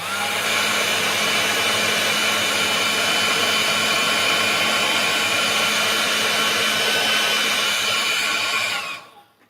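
A heat tool blows steadily to dry paint on a small cactus painting, a loud continuous whooshing hiss that holds evenly for about nine seconds before cutting off.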